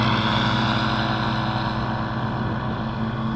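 Propeller aircraft engine droning loud and steady at close range as it runs up for a short takeoff, a continuous buzzing roar that barely changes over a few seconds, with no talk.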